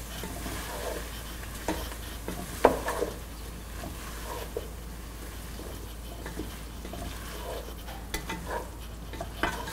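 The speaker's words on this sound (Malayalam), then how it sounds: "ഇതിലോട്ട് നമ്മൾ കട്ട് ചെയ്ത് വെച്ചിരിക്കുന്ന മല്ലിയിലയിട്ട് നന്നായിട്ട് മിക്സ് ചെയ്തതിന് ശേഷം സ്റ്റൗ ഓഫ് ചെയ്യുക" Aloo gobi stirred in a pan with chopped coriander leaves mixed in, soft scraping and light sizzling at a low level with occasional sharper knocks of the spoon against the pan.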